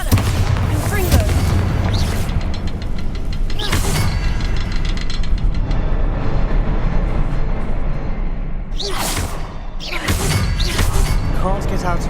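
Booming spell explosions from the Bombarda and Confringo spells in the Hogwarts Legacy video game on PS5 Pro, several loud blasts over a steady rumbling game soundscape, with a voice heard among them.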